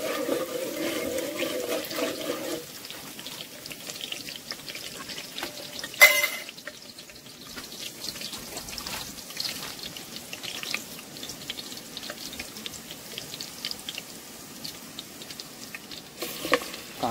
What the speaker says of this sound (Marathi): कांद्याची फोडणी दिलेली आहे